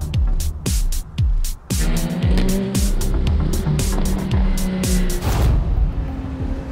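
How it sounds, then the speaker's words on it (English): An Acura NSX sports car drives hard around Willow Springs Raceway in California. The engine roars loudly and continuously, its pitch climbing repeatedly as it revs, with brief dips between gear changes. "we are driving the beautiful NSX"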